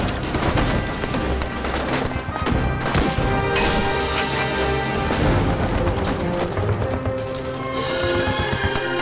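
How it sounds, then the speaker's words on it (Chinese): Battle gunfire in a war drama, with dense bursts of rifle and machine-gun shots, crashes and booms overlapping in a loud, chaotic barrage with no clear talk. "前面有枪声"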